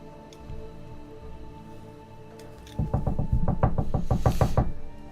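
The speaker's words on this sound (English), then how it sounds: "Quick, rapid knocks." Quick, rapid knuckle knocks on a closed door: a burst of about a dozen sharp, closely spaced raps that starts midway, rising out of a quiet, faintly hissing room.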